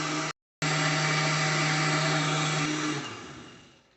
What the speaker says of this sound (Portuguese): Agora nós vamos fechar o nosso liquidificador e vamos bater essa massa até ficar bem homogênea.